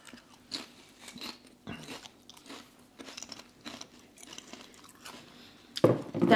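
Crisps such as Walkers, Monster Munch, Doritos and Wotsits are bitten and crunched by several people at a food tasting, giving irregular dry crackling bites with quiet pauses between them, nearby and without talk.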